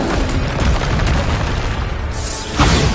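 Bombarder explosive spell cast in Hogwarts Legacy, a loud booming blast that rumbles on, followed by a second burst near the end.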